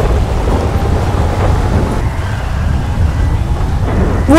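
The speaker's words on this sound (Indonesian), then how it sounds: "Ditambah dengan suara petir-petir di headset yang gua pakai ini" Deep thunder rolls and rumbles through a rainstorm in Minecraft RTX, a loud, continuous low roar with steady rain noise and no voices.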